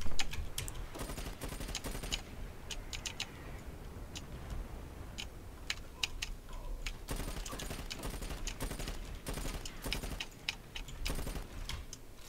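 Distant bombardment and scattered gunfire in the online shooter Dirty Bomb, a steady crackle of sharp bursts and clustered impacts over a constant low rumble, with no voices.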